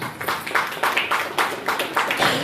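Audience at a state-level painting competition event clapping steadily to welcome a guest to the stage, a continuous patter of many hands at moderate loudness.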